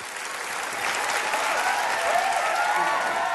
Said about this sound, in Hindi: जोरदार तालियां सारे कंटेस्टेंट्स के लिए